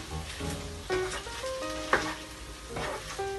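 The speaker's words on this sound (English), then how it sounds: "Mix this whole thing well" Doodhi sabzi with sausages frying in a pan while being stirred, giving a steady close sizzle broken by repeated clatters and scrapes of the spoon against the pan, with no talking.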